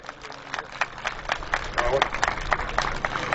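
Scattered clapping from an outdoor crowd at a village memorial gathering, with uneven sharp claps building over a few seconds and voices mixed in underneath.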